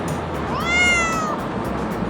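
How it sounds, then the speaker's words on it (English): A single cat gives one rising-and-falling meow, close and clear, over steady outdoor background noise, with no one speaking. "There's a cat."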